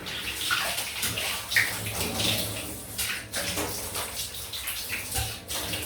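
Running water rinses a freshly shaved head and razor handle after a wet shave with soap, a steady close splashing flow that swells and dips in short bursts without pause.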